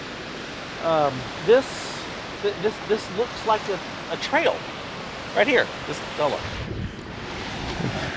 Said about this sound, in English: But a beautiful little waterfall here.